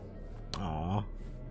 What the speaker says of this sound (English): It's kind of morbid that you're a ghost dog.